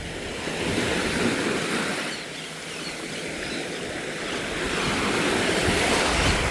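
Ocean waves break on a beach with clear water, making a steady, full roar of surf that swells and eases as the waves roll in, with some wind noise.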